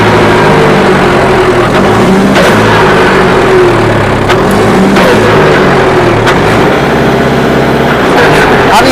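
A tractor engine drones loudly and steadily, its revs shifting slightly, with muffled voices talking underneath and occasional clunks.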